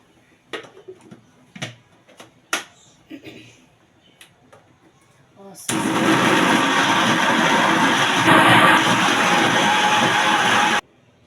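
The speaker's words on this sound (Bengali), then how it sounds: "ব্লেন্ডার করে নেব" Electric blender whirring loudly as it grinds peeled garlic with a little water, a steady dense roar lasting about five seconds after a few quiet kitchen clicks and knocks.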